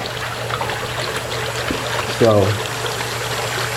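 Water trickles steadily into the water tray of a DIY CNC plasma table, a continuous flow under a brief spoken word and a low hum.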